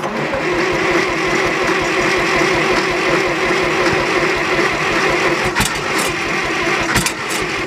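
A John Deere 1010 tractor engine with an underfueling problem cranks and catches on full choke, chugging along unevenly at a steady loud level, with a couple of sharp clanks near the end.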